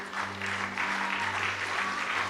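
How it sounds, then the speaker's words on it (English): An audience at a Bible college ceremony gives a warm round of applause for students, a dense, steady patter of many hands clapping throughout at moderate volume. "Let's just give them a round of applause"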